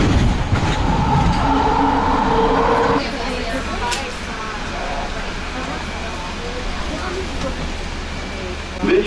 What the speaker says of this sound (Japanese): This train is a Jamaica train stopping at Federal Circle for hotel shuttles and rental cars.